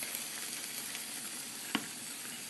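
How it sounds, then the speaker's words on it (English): Tofu stir-frying with eggplant in a pan for a spicy dish, giving a steady close sizzle with a brief clatter of a utensil against the pan partway through; no one talks. "we're going to stir fry it up"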